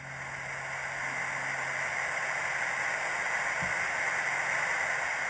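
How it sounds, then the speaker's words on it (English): The fan effect from a Hornby TTS OO gauge Class 31 model locomotive's sound decoder gives a steady whooshing, airy hum with a low drone, continuous and fairly quiet, heard close with no talking. "Function 12 is a fan."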